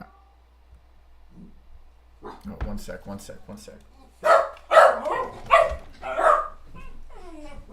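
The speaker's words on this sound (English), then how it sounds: "Apologize for the dog." A dog barks in a home room, starting with soft yips and whimpers and building to four loud close barks, while a person briefly speaks in between.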